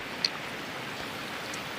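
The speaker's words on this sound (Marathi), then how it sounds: "हे पाऊस चिक्कर आहे" Heavy monsoon rain falls steadily over a green field in the Konkan during paddy transplanting, a soft, even hiss with no breaks. One or two faint drips stand out briefly against it.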